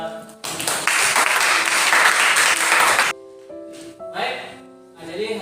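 Applause from a group in a classroom lesson, a burst of dense clapping lasting about three seconds, then fading into voices talking.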